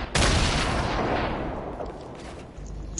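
A grenade-launcher blast and gunfire in a multiplayer tournament shooter on PlayStation: a sharp, loud explosion up close followed by a long rumbling tail and scattered distant shots, with no talking.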